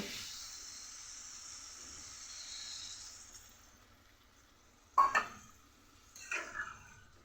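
Water poured into a hot pan of papaya curry, cooked vegetarian style, gives a steady broad hiss that fades over a few seconds, followed by two short, louder bursts of sizzling and clatter close by.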